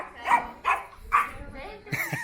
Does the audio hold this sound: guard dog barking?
yes